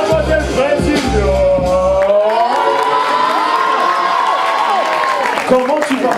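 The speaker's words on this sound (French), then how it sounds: "j'aimerais que vous applaudissez comme il se doit" A studio audience cheers and applauds a guest on a French television show, with loud sustained clapping, whoops and excited shouts filling the room, while a host's voice carries over the crowd.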